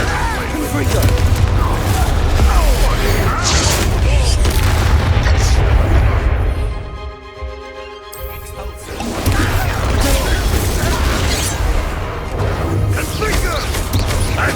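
Blasting spells going off in Hogwarts Legacy, played on PS5: a dense, loud wall of booming blasts and crashing impacts. It briefly thins out midway, then resumes at full intensity.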